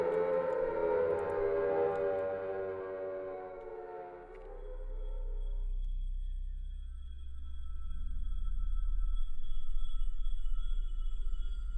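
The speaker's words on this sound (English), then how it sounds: "There's those sirens again." A Silent Hill siren wails loud and close, its rising harmonic tone sliding down and fading out, then leaving a deep rumbling drone that swells and lingers.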